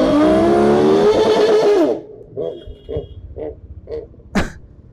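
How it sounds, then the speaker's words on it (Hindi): A roaring eight-cylinder car engine revs hard and loud for about two seconds, then cuts to a few short, rough bursts before a sharp final blip, close by. "जब 8 सिलेंडर शोर मचाते हैं तो ऐसे ही होता है भाई।"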